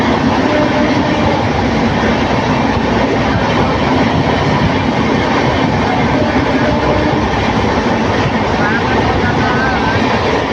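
A train running fast between Coimbatore and Erode, heard from inside as a loud, steady roar and rumble with continuous wheel and rail noise throughout.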